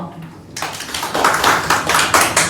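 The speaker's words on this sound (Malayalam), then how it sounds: "അതിനൊരു കയ്യടി കൊടുക്കാം" An audience bursts into applause at a public-speaking session, a dense wash of many hands clapping that starts abruptly and keeps going steadily, close and fairly loud.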